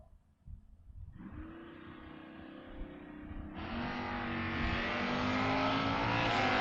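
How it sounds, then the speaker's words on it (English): A 1988 Camaro and a 1986 Fox-body Mustang launch side by side at a door car drag race, engines roaring up loud and close, then swelling into a sustained full-throttle scream as both cars pull away. "The 88 Camaro versus the 86 Mustang of McLaughlin."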